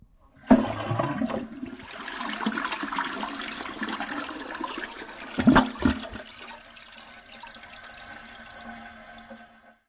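A toilet flush played as a sound effect: a sudden loud rush of water that churns steadily, swells again midway, then drains and fades into a quieter trickle, with no voices.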